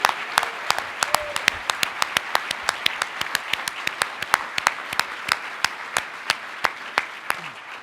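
Audience applause fills a luncheon hall, a crowd of many hands clapping steadily and densely throughout, loud and sustained with sharp individual claps standing out.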